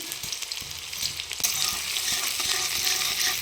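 Onion with green and dry chilies frying in hot oil, a continuous bright sizzle with stirring knocks and scrapes near the start, close and moderately loud, no voices.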